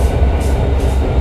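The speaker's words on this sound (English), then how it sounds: "As Carrie coupled to Brandon in his train" Model railway train cars rolling and coupling together, a loud, close, continuous low rumble with rhythmic clatter and no voices.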